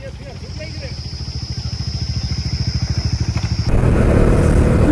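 Bajaj Dominar 400 motorcycle engine running close by, a rhythmic single-cylinder thump that speeds up and grows louder, then a sudden louder burst of engine and wind noise as the ride starts.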